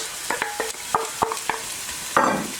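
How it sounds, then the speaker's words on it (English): Onions added to hot oil in a pot for a chicken tortilla soup, with a soft steady sizzle broken by several sharp clinks and scrapes of a spoon stirring, ending in a louder burst of frying. "then we're going to sweat our vegetables. So I'm going to add our onions"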